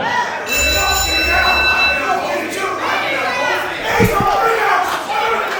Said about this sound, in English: Off we go, ring the bell.